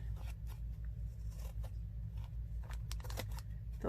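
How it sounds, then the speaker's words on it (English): Scissors trim paper for a junk journal, making faint, quick snips over a low steady hum, with a small cluster of cuts near the end. "I'm just going to trim this up here."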